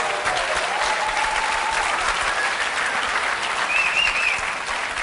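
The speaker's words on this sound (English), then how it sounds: "Can we give him a round of applause, please?" A conference audience gives a sustained round of applause, dense continuous clapping from many people in a hall, with faint whistles rising briefly near the end.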